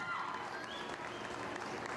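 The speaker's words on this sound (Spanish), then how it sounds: "el aplauso para Aldo." Applause for a dancer at a XV años party, a steady mass of clapping from a crowd that keeps going for the whole stretch at an even level.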